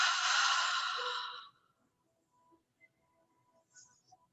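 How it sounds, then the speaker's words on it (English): Audible open-mouthed exhale in a guided breathing relaxation session, one long breathy rush lasting over a second, then quiet with faint room sounds. "open your mouth and exhale"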